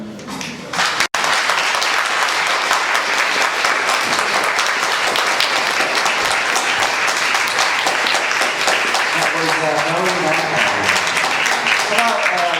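Audience applause for storytellers at a reading event, loud dense clapping that starts abruptly after a brief moment and carries on steadily, with a voice faintly heard late under the clapping.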